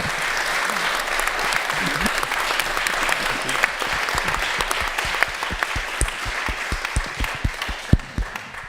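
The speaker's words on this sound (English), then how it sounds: "Thanks again to all the panelists. Round of applause." Audience applause for the panelists at a university panel discussion on sustainability, with steady, dense clapping from a crowd that goes on for several seconds and gradually thins into scattered, separate claps.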